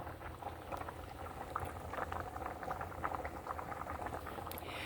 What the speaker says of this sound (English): So you see it is still boiling.